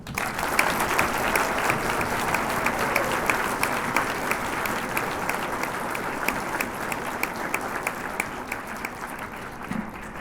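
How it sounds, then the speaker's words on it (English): A concert audience gives steady, sustained applause for a middle school all-county band, dense clapping continuing evenly throughout with no voices over it. "Would you please take a moment to help join me in applauding our 2022 Durham Public Schools All-County Middle School Band"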